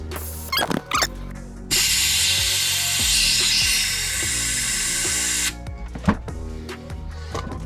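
Compressed air hisses loudly and steadily for about four seconds while blowing water out of the lines of a Yamaha jet boat during cold-weather winterization, framed by a few tool clicks and knocks.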